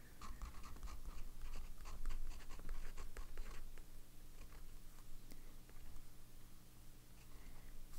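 A fountain pen nib scratches across paper while swatching Sailor Studio ink, with continuous close, faint scribbling strokes and soft ticks, alone without talk.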